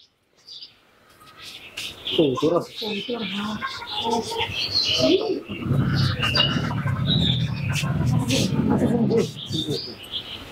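Wild birds call from the trees of a Dhaka restaurant garden, repeated chirps and tweets over a broad murmur, with a person speaking at times.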